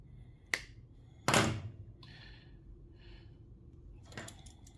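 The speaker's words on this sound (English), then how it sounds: "Now we need 2 green wires. I got one here, I'm gonna cut in half and make into 2." A green electrical wire being snipped in half in a workshop, with two sharp clicks of the cutters, the second louder, then faint handling rustles and another click near the end.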